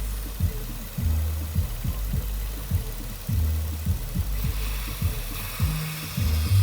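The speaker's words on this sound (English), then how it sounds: "with the car on, engine running" A Nissan Maxima with a six-speed manual runs at idle, a steady low rumble with uneven, lumpy pulses heard close and alone.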